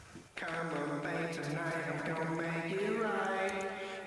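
Sung vocal line treated with two delays set to different times on the left and right sides, a sustained harmonic voice entering after a short silence and holding steadily with smeared echoes.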